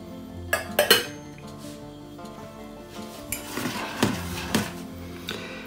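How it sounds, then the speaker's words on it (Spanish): Utensil scraping and clinking against a pan while butter melts for béchamel, a few sharp metallic knocks early on, then softer intermittent taps and stirring scrapes, close and fairly quiet. "Removemos porque hay que tener cuidado que no se nos queme la mantequilla."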